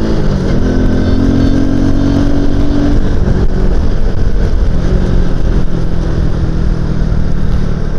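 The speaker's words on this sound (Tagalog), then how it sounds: "Ganda ng tunog ng third gear na itong motor ko." A Marvel 130XI motorcycle engine runs in third gear while riding, a loud, close, continuous mid-pitched drone with a steady pulse, overlaid with wind rush and road noise, no talk.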